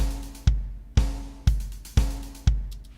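Programmed MIDI drum beat in Studio One with humanized, slightly scattered timing, playing alone: punchy kick-and-snare hits land about every half second, each with a bright cymbal wash ringing over a steady low groove.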